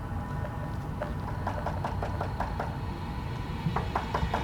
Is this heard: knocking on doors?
yes